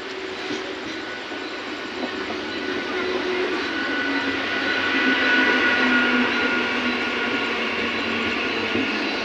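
A local train pulls into a station, its loud rumbling and rushing noise steady and slowly building, with faint rail clatter beneath and no talk.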